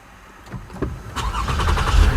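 A Lexus car engine starts with a push-button start, a rising mechanical whir that builds into a loud, steady running rumble close by, with no voices.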